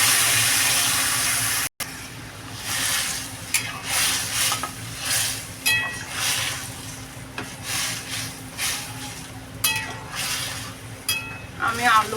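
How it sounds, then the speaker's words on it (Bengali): Water poured into a pan of spice-fried masala while cooking a rohu fish and taro curry, giving a steady sizzle and stirring that rises and falls over several seconds, with someone talking over it. "এবার আমি জল দিয়ে দেবো"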